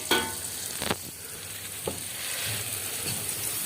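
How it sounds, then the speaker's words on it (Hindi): Tomatoes go into a pan of softened onions and salt frying on a tawa, giving a steady sizzle broken by a couple of sharp clatters and scrapes. "हम अब इसमें टमाटर डालेंगे"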